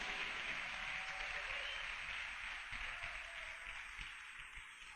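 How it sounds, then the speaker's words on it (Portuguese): A church congregation applauds loudly at an evangelical service, a dense, continuous wash of clapping that slowly tapers off. "Dê um aplauso bem forte a ele."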